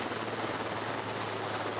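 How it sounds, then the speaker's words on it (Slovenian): A Slovenian Army helicopter working over a large fire at a plastics plant in Ljutomer gives off a steady, loud rotor and engine drone with a low thumping pulse throughout, with no voices present. "so na pomoč poklicali tudi helikopter Slovenske vojske"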